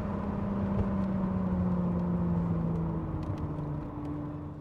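A Renault Alpine GTA Turbo pulling hard, its engine note a steady loud drone with rising tones that climb and then ease off near the end, heard close and continuous with no talk.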